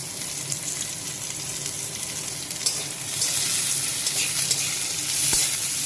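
Chopped cabbage fries in a pan for Maggi noodles, giving a continuous close hiss with occasional clinks and scrapes of stirring that grows a little louder toward the end.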